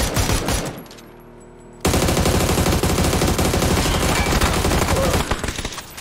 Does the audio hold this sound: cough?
no